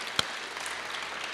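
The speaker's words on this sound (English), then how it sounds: "Give them a great big round of applause for all the hard work they've done." An audience at an open house claps for the volunteers in a short, even burst of many hands, with one sharper clap standing out near the start.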